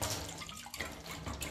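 Water dumped in a steady, noisy splashing pour onto a painted surface to form large drops, close and continuous for the whole stretch with no talking.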